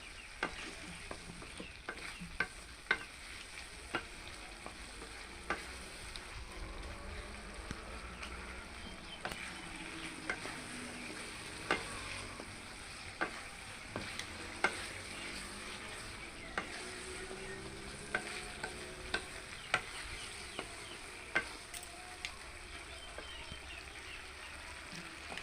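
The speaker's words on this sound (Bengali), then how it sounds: "ভালো করে একটু কষায় নেব চিংড়ি মাছটা" Shrimp stir-fried with ground cumin and coriander paste in a pan, a quiet ongoing sizzle punctuated by regular scraping clicks of a spatula stirring for the whole stretch.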